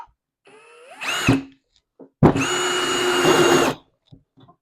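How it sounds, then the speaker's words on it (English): A power drill on its highest setting drives a screw into fairly soft wood, heard in two bursts: a short rising whine, then a longer loud steady high-pitched whirr that cuts off abruptly, close and alone. "if I have this all the way up on the highest setting and I'm screwing into some fairly soft wood"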